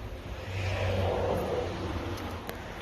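A bus engine rumbles steadily at moderate distance, a low, continuous drone with a slight swell in the middle and no voices over it.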